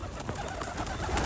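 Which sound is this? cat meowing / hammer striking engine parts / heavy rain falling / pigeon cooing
pigeon cooing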